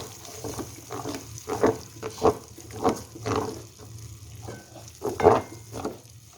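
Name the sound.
tamarind pulp being stirred into frying masala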